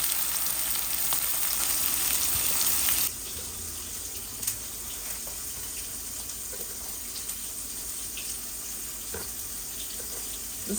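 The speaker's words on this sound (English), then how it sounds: "I'm gonna let it fry on one side and I'll flip it over" Fish sizzles in a frying pan with a steady hiss that drops to a quieter, lower crackle partway through, with a few small pops and no talking.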